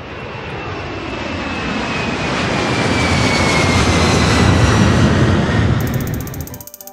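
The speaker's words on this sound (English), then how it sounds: "Airplane." An airplane engine roars steadily, swelling into a loud, sustained jet-like whoosh before cutting off abruptly.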